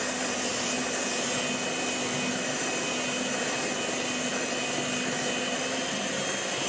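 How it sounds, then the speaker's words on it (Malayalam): An electric beater on low speed whirs steadily through buttermilk pudding cake batter, a loud continuous motor hum with a faint underlying tone and no pauses. "ഇതിന് നമ്മൾ ഇലക്ട്രിക് ബീറ്റർ കൊണ്ട് തന്നെ അടിക്കേണ്ടതാണ്. സ്പീഡ് കുറച്ചിട്ട് നമുക്കൊന്ന് ബീറ്റ് ചെയ്യാം."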